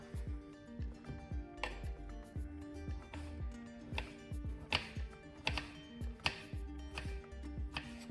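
Knife chopping courgettes on a cutting board, a steady run of sharp, close taps repeating about once a second, loud and clear with little else around.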